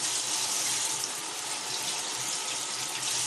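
Steady rush of water pouring from a handheld shower head fed by an immersion pump in a camper van, a continuous even hiss with no talk over it.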